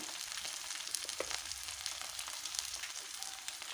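Ivy gourd (tindora) fries in a pan with a soft, steady sizzle and occasional crackles and pops, heard faintly with no talking.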